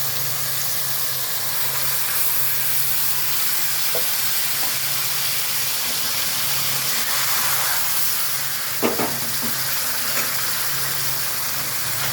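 Tamarind frying in a hot pan with dried chillies for homemade pickle, making a loud, steady hiss and sizzle throughout, with a couple of brief crackles and no talking.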